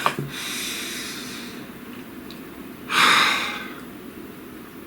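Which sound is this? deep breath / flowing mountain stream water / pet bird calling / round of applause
deep breath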